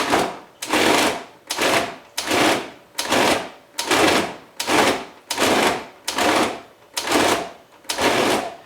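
Food processor pulsing luncheon meat in about ten even bursts, each a loud whirring grind lasting roughly half a second, separated by short pauses, close and without talk.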